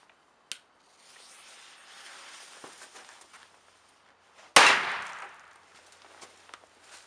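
A Weco Pyro-Petarde firecracker goes off with one loud, sharp bang outdoors after a small earlier click and a stretch of low rustling, its crack trailing off over about a second.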